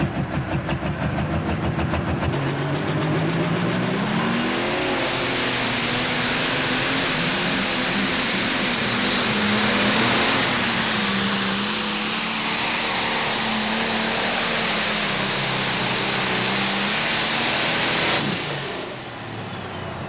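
John Deere 4430 single-turbo pulling tractor named Rampage making a pulling run, a loud sustained engine roar with a wavering pitch and turbo whine building and holding for about fifteen seconds before cutting off.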